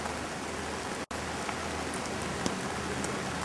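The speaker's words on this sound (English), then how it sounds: "You know how much we pay to have our rain machines?" Rain from film-set rain machines pours down steadily in a dense, even hiss of drops, broken by one brief dropout.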